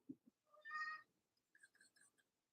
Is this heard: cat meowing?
yes